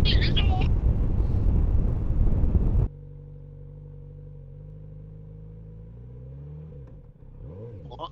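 A Kawasaki Z900RS motorcycle rides along country lanes. Talk and wind noise come first, then the engine settles into a steady low drone that rises in pitch toward the end.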